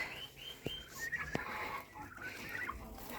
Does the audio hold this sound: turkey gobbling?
yes